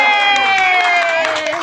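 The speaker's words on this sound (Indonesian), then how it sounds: "Tepuk tangan dong." A crowd at a mass circumcision celebration in Garut cheers loudly, with sustained shouting voices and some clapping over a brief, close burst.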